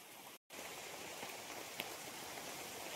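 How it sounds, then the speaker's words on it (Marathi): Heavy monsoon rain pours in the Konkan countryside, a dense, even hiss of drops on surfaces that runs steadily throughout with one very brief break. "खूप पाऊस पडतोय मित्रांनो."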